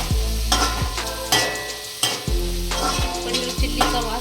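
Paneer chilli ingredients fry over a full gas flame, a close, bright sizzle with repeated stirring and tossing strokes roughly every half second, each scrape of the spatula standing out above the hiss.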